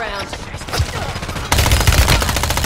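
Rapid bursts of video game gunfire ring out in a first-person shooter firefight, building from scattered shots into a loud, dense volley of automatic fire partway through, with no talking over it.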